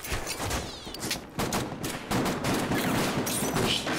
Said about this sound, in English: The bullets fucking skipping off shit, that looks pretty good. It fucking sounds good.